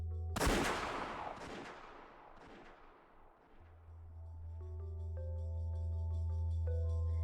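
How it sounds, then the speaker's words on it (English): A single crisp gunshot from a visual novel murder-mystery game cracks out loud near the start and decays into a ringing tail, then a low sustained musical drone rises beneath it. "They certainly heard the crisp sound of gunfire ringing out once."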